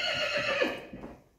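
A foal gives a single short, high whinny that trails off after about a second. It is fairly faint and heard alone.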